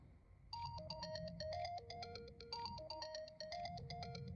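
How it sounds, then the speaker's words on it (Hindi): A phone ringtone plays a repeating electronic melody of bright beeping tones, clear and close, starting after a brief quiet moment and continuing steadily. "थोड़ी देर बाद उसका फोन फिर से बजा।"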